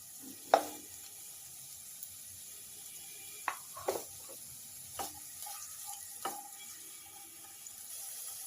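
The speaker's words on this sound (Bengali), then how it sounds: "এতে আমি 2 চামচ তেল দিয়ে প্রথমে পেঁয়াজটা ভেজে নেব" Onion fries in two spoons of oil in a pan while a chicken sandwich is being made. A faint, steady sizzle runs under occasional sharp knocks and scrapes from stirring.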